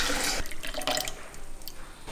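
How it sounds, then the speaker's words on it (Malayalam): Tender coconut water pours into a mixer jar holding milk and coconut flesh: a strong gush that opens hard, then splashes unevenly and tapers toward the end, near and clear with no voices. "ഇനി ഇളനീരിൻ്റെ വെള്ളം ഒഴിച്ച് കൊടുക്കാം."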